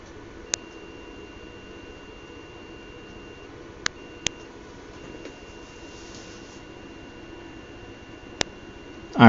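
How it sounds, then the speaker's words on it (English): A buzzer on an ESP32 circuit gives a few short, sharp beeps at irregular spacing over a faint background hum. A louder burst of noise comes right at the end. "And there's only one volume in the buzzer."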